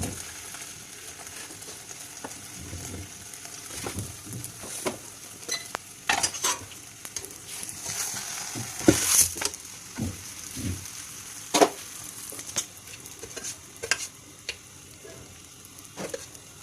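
Paratha frying in ghee in a pan, a low steady sizzle with frequent clinks and scrapes of a metal utensil on the pan and one louder spatter burst midway, close by.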